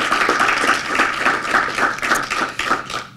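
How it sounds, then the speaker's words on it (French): An audience applauds at the launch of a university faculty in Victoriaville. The clapping is loud and close, with a steady pulsing rhythm of many hands that carries evenly through the whole stretch with no talk over it. "je pense qu'on peut leur donner une bonne main d'applaudissement pour toutes ces années d'efforts"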